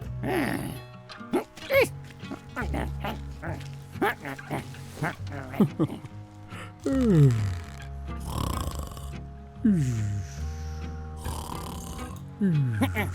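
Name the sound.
snoring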